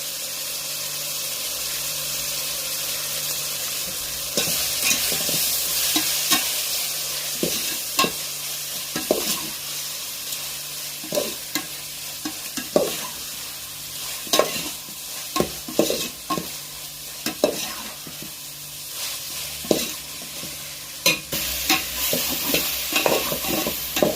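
Chicken biryani masala sautéed in a pan with chili powder added, a steady sizzle running under repeated sharp scrapes and clacks of a stirring spoon, close and fairly loud, growing busier after the first few seconds.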